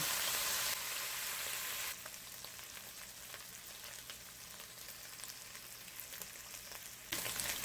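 Saltfish frying in a non-stick pot, a steady soft sizzle and crackle that continues evenly throughout, faint and close, with no talk.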